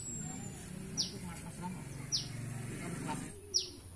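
A caged pet songbird, a green-plumaged bird, gives three short bright chirps spaced about a second apart, faint over a low background murmur of indoor ambience and soft voices.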